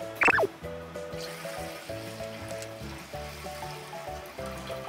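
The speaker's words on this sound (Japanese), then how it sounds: "洗ったらここに水を入れます。" Water poured into a rice cooker pot of lightly washed rice for chicken pilaf, a steady close trickling and splashing stream that runs continuously after a brief sharp knock at the start.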